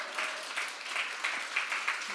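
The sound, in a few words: audience applauding in church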